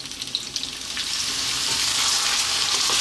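Potatoes fry in a pan for a Gomen Be Dinach Ethiopian spinach and potato dish, a steady bright sizzle that starts with a few light crackles and then builds to a continuous hiss, close by with no talking.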